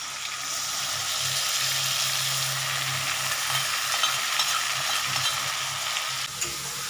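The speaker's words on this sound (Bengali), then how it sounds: "আমি এই মশলাটাও দিয়ে দিচ্ছি" A paste of cumin, coriander, turmeric and dried chili fries in a pan with a continuous, moderately loud sizzle and crackle, a few stirring scrapes breaking through, and no talking.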